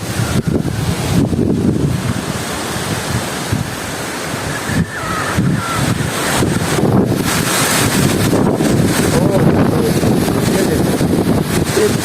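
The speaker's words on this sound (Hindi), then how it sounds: "ये तेज़ हवा है" Strong wind during a dust storm that has been blowing for over an hour, bending and damaging fruit trees; a loud, continuous roar that buffets the microphone with heavy low gusts throughout.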